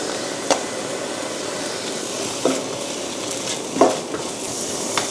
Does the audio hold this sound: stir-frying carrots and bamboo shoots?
yes